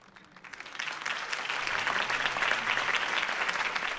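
Applause after a campaign speech swells up from quiet into a full, sustained round of clapping from a crowd, holding steady to the end.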